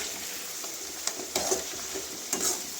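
Fenugreek leaves fry in hot oil for vangibath, giving a steady close sizzle broken by a few sharp scrapes and clinks of a stirring spoon against the pan.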